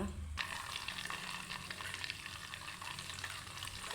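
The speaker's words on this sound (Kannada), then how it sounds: "ನೋಡಿ ತುಪ್ಪ ಆಗ್ತಾ ಇದೆ ಒಂದು ಎರಡು ನಿಮಿಷ ಕುದ್ರೆ ಆಯಿತು" Butter bubbling steadily in a pan as it turns into homemade ghee, a continuous close crackling sizzle with no talk over it.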